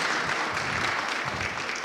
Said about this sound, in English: They thought you were asking for applause.